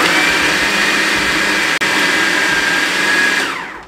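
An electric food chopper whirs steadily as it chops chicken shami kabab mixture, a loud continuous motor drone with one brief dropout in the middle, then winding down at the end.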